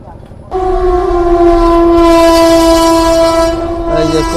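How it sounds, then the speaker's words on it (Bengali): A through train rolls past Court Road station at Lalbagh, its loud, steady horn blaring close by for several seconds above the rumble of the wagons, then briefly changing pitch near the end. "এই যে কোর্ট রোড স্টেশন দিয়ে থ্রু ট্রেন বেরিয়ে যাচ্ছে"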